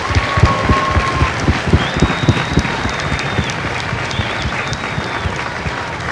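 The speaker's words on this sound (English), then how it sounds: "Please join me in a well-deserved round of applause for the drill instructors and families of Delta Company." A large outdoor crowd at a Marine Corps recruit graduation at MCRD San Diego applauds drill instructors and families, loud dense clapping with a few whistles rising above it, sustained throughout.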